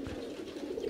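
Soft, low cooing of highflyer pigeons close by, a brief throaty murmur with no voices.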